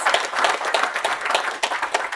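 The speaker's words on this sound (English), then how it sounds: "give her a round of applause and appreciation for the work she does" An audience at an Oklahoma political event for a governor candidate claps in warm applause, a lively, moderately loud patter of many hands with uneven bursts and no speech over it.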